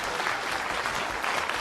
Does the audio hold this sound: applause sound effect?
yes